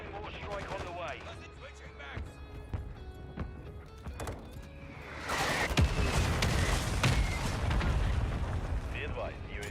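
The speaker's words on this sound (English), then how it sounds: "Friendly mortar strike on the way." Mortar strike and explosions from a military first-person shooter video game, with a loud burst of blasts and debris rumble arriving midway over continuous gunfire and game voice callouts.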